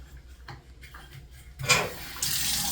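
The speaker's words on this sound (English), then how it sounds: "Oh, that's the bathtub." A bathtub tap in a Hilton Doubletree hotel room in Worthington, Columbus, turned on: a few knocks, then water gushing loudly and steadily into a tub with a broken base seal.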